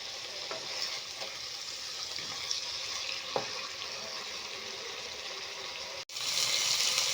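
Prawns fry in mustard oil in a wok, giving a steady, close sizzle with occasional stirring scrapes, briefly dropping out before a louder sizzle resumes.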